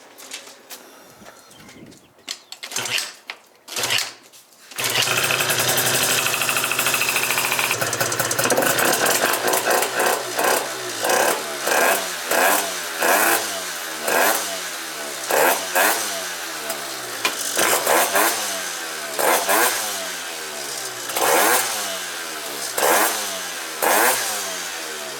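A Piaggio Typhoon scooter with an upgraded carburettor starts after a few rough attempts, then runs loud and close with a buzzing two-stroke idle, broken by a steady run of repeated throttle blips.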